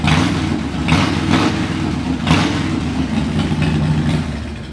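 A 2001 Harley-Davidson Super Glide motorcycle with Vance and Hines exhaust pipes idles with a deep, steady, loping rumble and occasional blips of throttle, heard close and loud with no talking.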